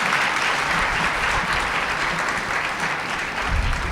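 An audience at a religious talk at Matridham Ashram breaks into applause, a steady, dense wash of clapping that holds at full strength for the whole stretch.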